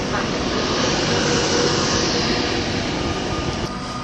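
A Virgin Trains Class 390 Pendolino at Birmingham International station, a loud, steady rumble and whine from the electric train rolling close by, with no break in the sound.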